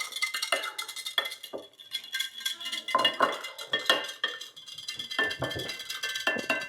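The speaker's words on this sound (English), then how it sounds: "I'm just going to use my whisk here because that's what I have available." A whisk stirs a solution in a bowl, making quick repeated metallic clinks and scrapes in an irregular rhythm, close up and fairly quiet, with no talking.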